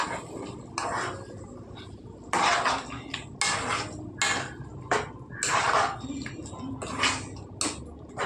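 A spoon stirs pureed tomatoes into a mixed vegetable curry in a pot, making irregular clanks and scrapes against the metal in uneven bursts, with soft background noise.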